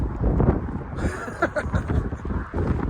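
Gusty wind buffets the microphone out on open moorland, a continuous low rumble that swells and dips, with faint voice-like sounds mixed in.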